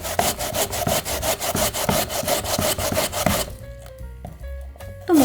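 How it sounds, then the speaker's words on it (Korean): Potatoes are grated on a kitchen grater, corner pressed in first. About three seconds of close, rhythmic rasping strokes scrape back and forth, followed by a few quieter clinks and rustles. "이러면 감자 가는 게 하나도 안 힘들어요"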